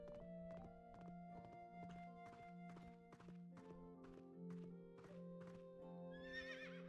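A horse in the video game Fantasy Life gives an extended whinnying neigh over a steady run of hollow hoof clip-clops, clear and evenly paced, with no talk.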